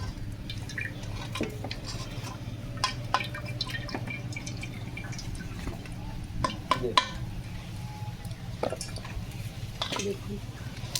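Hot sugar syrup drips off fried jalebi lifted on a strainer, a scatter of small, sharp wet drips and splats over a low steady background hum.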